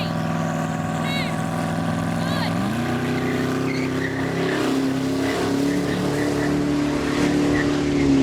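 A Ferrari with 1,030 horsepower and a 1,500-horsepower Koenigsegg accelerate hard side by side in a drag race, loud engine roar climbing through shifts as a voice speaks over it.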